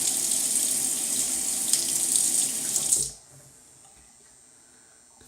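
Water from a tap runs steadily into a Williams mug shaving soap for about three seconds, a bright close splashing stream that then stops abruptly, leaving a quiet room with faint handling.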